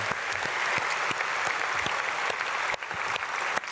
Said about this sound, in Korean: 우리 축복으로 박수하면서 축복하겠습니다